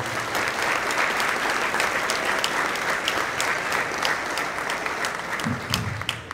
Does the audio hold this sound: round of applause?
yes